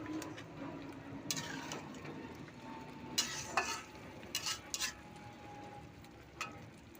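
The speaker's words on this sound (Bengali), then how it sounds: "আমি আবার নেড়ে চেড়ে চাপা দিয়ে দেবো।" Bombay duck (lote fish) curry is stirred in a pan, with soft scrapes and a few sharper clinks of a spoon against metal over a quiet, faint simmer.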